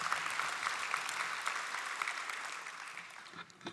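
Audience applause fills an award ceremony hall for the Paycom Jim Thorpe Award, a dense, steady wash of clapping from a large crowd that carries evenly throughout and thins slightly near the end.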